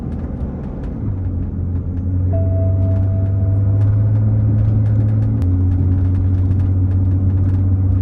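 A BMW X5 with the M57 turbo diesel engine drives on a test run in low power mode, with a steady low cabin drone and engine hum that rises in pitch partway through, then steps down after a gear change.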